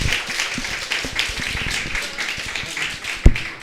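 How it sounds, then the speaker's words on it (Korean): Continuous applause from a church congregation at a Children's Day service, a steady wash of many hands clapping, with one sharper, louder clap near the end. "찬양 격려의 뜨거운 박수"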